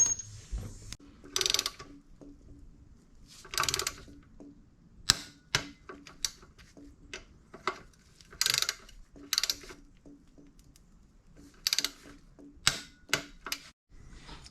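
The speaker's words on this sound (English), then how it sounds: "Now we're gonna tighten these down, all 4 of them, with 15 pound." Close mechanical ratcheting from a hand wrench or torque wrench snugging down the four front ABS rotor bolts on a Yamaha VMAX 1700 during a front tire change, coming in repeated short bursts with quiet gaps between.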